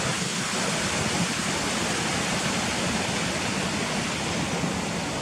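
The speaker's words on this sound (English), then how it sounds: "And there's another river coming down the other side" River rushing down the hillside near the Gunnerside lead mine ruins: a steady, broadband roar of flowing water, continuous and fairly close, with no voices over it.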